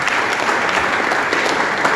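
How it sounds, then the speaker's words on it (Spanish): Symposium audience gives a strong round of applause to honored guests, dense close clapping from many hands, steady and unbroken with no voices. "Quiero que me acompañen con un fuerte aplauso a nuestros"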